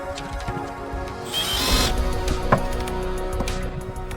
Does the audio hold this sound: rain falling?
no